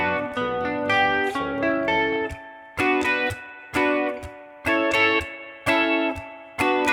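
Distorted electric guitar plays an intro, rhythmic strummed chords in short repeated bursts separated by brief gaps, loud and close with no talking.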